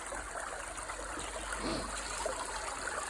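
Water runs steadily through a small folding backpack sluice box set in a stream gravel bed. The rushing trickle is close and continuous, with faint gurgles and no talk.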